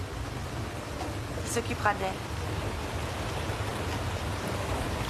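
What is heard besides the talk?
rain falling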